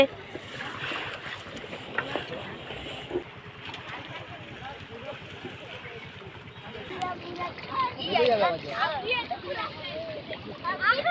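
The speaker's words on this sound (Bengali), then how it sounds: "এখানে হুড়ুর করে একেবারে জোয়ারের জল আসছে" Tidal water of the Ganges rushing in along the bank, a continuous loud broadband wash and splashing that swells toward the end, with people talking over it.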